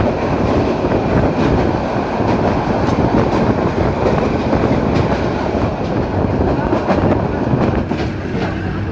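The Parabat Express, running from Sylhet toward Dhaka, rolls past close by with a loud, continuous rumble and rhythmic clickety-clack of wheels over rail joints, with no voices.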